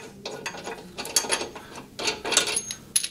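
A ratcheting wrench clicks in short, quick runs while the blade bolt and washer are undone on a Hyundai HYM510SPER electric-start roller lawn mower, close and fairly quiet, with brief pauses between turns.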